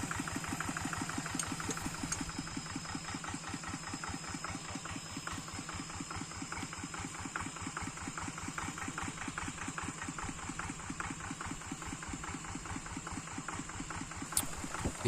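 A tractor engine idles with a steady, fast knocking pulse on a steep, overgrown grassy hillside of abandoned rice terraces. The chugging runs unbroken and close throughout, with no talk.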